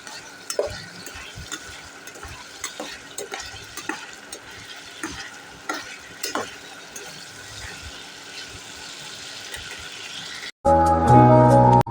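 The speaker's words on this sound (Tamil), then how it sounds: "எண்ணெயை ஊற்றி எண்ணெய் காஞ்சோடனே தக்காளி மட்டும் போட்டு கொஞ்சம் நேரம் அதில் வதக்கலாம்" Tomatoes sauté in hot oil for a tomato gravy, a continuous soft sizzle broken by scattered stirring clicks and scrapes, before a sudden much louder, dense burst of sound takes over for the last second or so.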